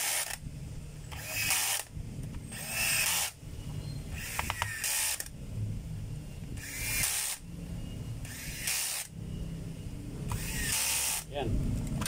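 Chuck of a DeWalt 3/8-inch drill being tightened by hand, with repeated ratcheting mechanical clicks and grinding in bursts across the clip, close and fairly loud, with someone talking in between.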